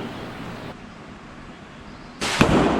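Bow shot at a buffalo during a hunt, a short quiet stretch followed by a sudden sharp release and impact burst near the end, close and loud.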